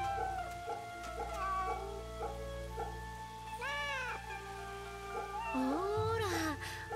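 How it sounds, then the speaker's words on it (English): A cat in the video game Fate/Samurai Remnant meows in a few rising, drawn-out calls over steady game music and ambient hum, fairly clear and close. "Pet the kitty."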